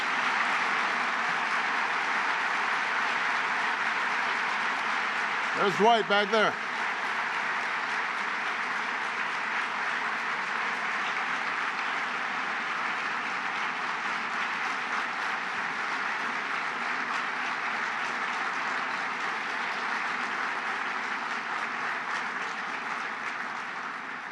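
A long, steady sustained applause rises from a large audience at a federal employees' event honoring retired civil servants, with one brief spoken remark early on and then continuous even clapping.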